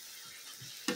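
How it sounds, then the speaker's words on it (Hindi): Spices frying for a Bihari-style spinach and brinjal curry, a faint low sizzle with a couple of soft stirring touches and one sharper scrape near the end, no talk. "उसके बाद हम लोग इसको अच्छे से चला के 5 से 7 मिनट जितना भूनेंगे"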